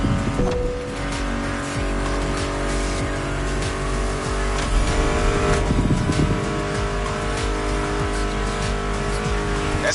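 Muscle car engines roar in The Crew Motorfest racing game, a loud continuous drone with revving swells and brief tire squeal, blended with background music.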